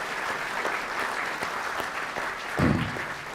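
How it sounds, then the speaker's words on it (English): Audience applause for the speakers of a PRL lecture series fills the room as a steady, moderately distant wash of clapping, swelling briefly near the end. "a large round of applause for all of them"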